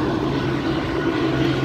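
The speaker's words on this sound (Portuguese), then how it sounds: "Avião, helicóptero." A steady low engine drone of a helicopter overhead at Boa Viagem beach in Recife, continuous and fairly loud with no pauses.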